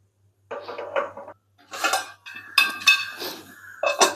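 A metal lid being set over an appam pan in a home kitchen, bursts of clattering and clinking metal separated by short pauses, close and clear with no voices.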